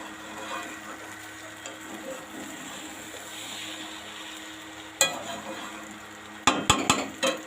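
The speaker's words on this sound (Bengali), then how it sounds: "দেখো এই যে চাল দিয়ে আবার একটু কষিয়ে নিচ্ছি" Rice for biryani is stirred and sautéed in a pot, giving a soft, steady sizzle and scraping, then a few sharp metallic clanks of a spoon against the pot near the end.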